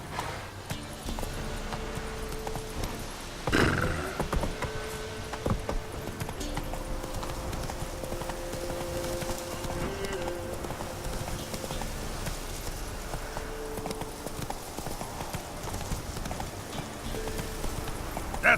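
Roach, the horse in The Witcher 3 on PS4, gallops with rapid, continuous hoofbeats, clear and close, over game ambience with light rain-like patter and an occasional louder burst.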